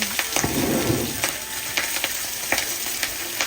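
Chicken frying lightly in a pan with Kashmiri chilli powder while cooking nasi goreng, a steady close sizzle broken by scattered pops and the scrape of stirring, with no talk.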